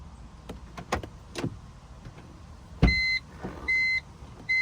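Clicks and thumps from a BMW Z4 coupe (E86) give way to a loud, sharp thud, then a series of repeated electronic beeps chirp in regular bursts.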